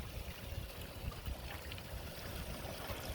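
Steady water trickling and splashing into a backyard pond, a continuous close burble and wash filling the whole stretch without any talk.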